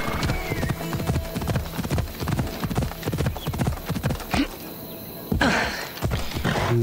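Horse hooves clip-clopping at a steady riding pace in Assassin's Creed Odyssey, loud and close with a busy game soundscape around them and a brief whinny-like cue.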